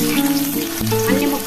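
Bottle gourd pieces frying in hot oil, a steady close sizzle and bubbling with a few tonal clinks and stirring sounds, no voices.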